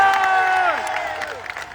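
A crowd at an SSC protest gathering of students applauds loudly for a teacher. Dense clapping blends with high cheering shouts and whistling voices, and the sound thins toward the end.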